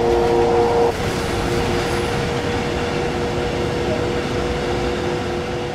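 Train exterior ambience from the video game Train Sim World 2 on the Main Spessart Bahn: a steady, loud rumbling hum with a brief tonal note at the start, continuous and without talk.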